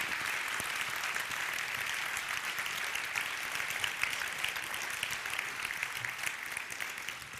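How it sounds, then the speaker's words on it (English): A sustained round of applause from an audience at a church service, an even, steady patter of many hands clapping at moderate loudness from start to finish, with no one speaking. "Can we give her a round of applause?"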